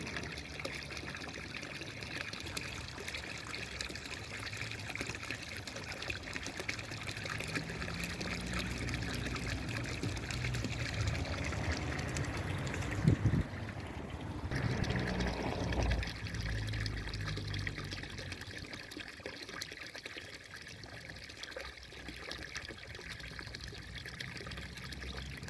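Homemade speed controller turned down to about 30% on a garden pond filter pump, water trickling and pouring steadily at low volume, with a brief louder splashing surge midway.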